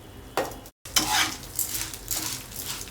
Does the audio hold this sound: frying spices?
yes